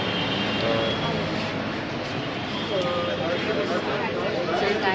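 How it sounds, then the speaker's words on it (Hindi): Metro train pulling into a station, a steady broadband rumble and rushing hiss with faint squealing tones, sustained and close throughout, with voices of people talking over it. "मेट्रो मेट्रो आ गया"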